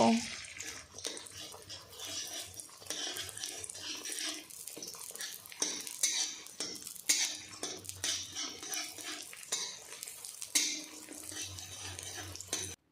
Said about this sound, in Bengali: আমি নাড়াচাড়া করে তেলের মধ্যে ডিমের ভুজিয়া তৈরি করে নেব